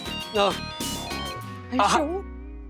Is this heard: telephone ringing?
yes